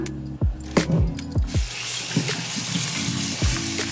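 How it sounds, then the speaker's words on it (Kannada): Soaked soya chunks rinsed by hand in cold water, with close sloshing and splashing and a few sharp clinks against the vessel, running steadily with no talking. "ಇವಾಗ ತಣ್ಣೀರಲ್ಲಿ ತೊಳ್ಕೊಳ್ಳೋಣ"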